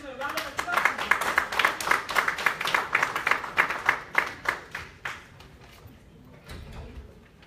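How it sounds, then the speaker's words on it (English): Summit attendees at Every Woman Matters UK clap for Professor Ariola Goke: rhythmic, fairly loud claps for about five seconds that thin out and fade, leaving a quieter room. "Can we give him a round of applause?"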